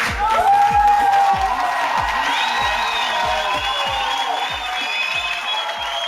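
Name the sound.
audience applause for comedian Hakan Türkmen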